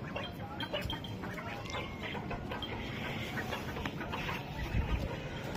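Chickens and bantam hens cluck outdoors, a steady overlapping chatter of short calls across the whole stretch at moderate level, with no talking.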